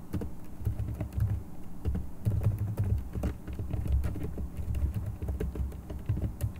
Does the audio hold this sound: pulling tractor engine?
no